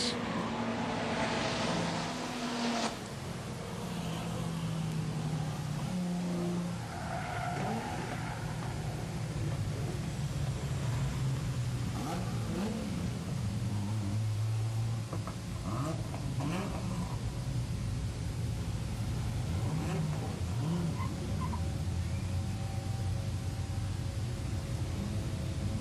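Production sedans racing at Maryborough Speedway in a feature final, a steady roar of engines with shifting pitch as cars pass, constant and fairly loud throughout with crowd and track ambience.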